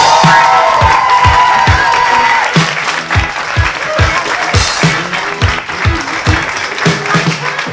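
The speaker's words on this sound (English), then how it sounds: "Give her a round of applause" At a comedy gong show, the audience breaks into applause with some cheering, loud at first and then thinning into scattered claps, with heavy thumps from the crowd.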